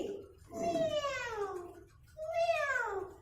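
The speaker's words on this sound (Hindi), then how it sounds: "जो म्याऊ म्याऊ करके आपके घर का सारा दूध पी जाती है" A cat meows twice, close and clear, each call a drawn-out, falling wail separated by a short pause.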